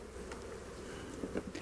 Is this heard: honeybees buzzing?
yes